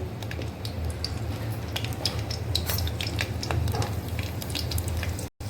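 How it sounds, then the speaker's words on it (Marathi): A little garlic fries in a small amount of oil, giving a soft steady sizzle with scattered crackles and spoon scrapes against the pan, close and moderately quiet, with no voices. "थोडंसं तेल टाकलेलं आहे आपण लसूण टाकूया थोडीशी त्याला पण आपण तांबूस कलर होऊन देऊया"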